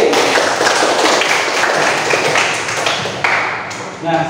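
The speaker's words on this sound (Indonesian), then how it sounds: "Aplaus untuk Indi." A classroom breaks into loud, dense applause for a student, many hands clapping together steadily and close by, with voices mixed into the clapping.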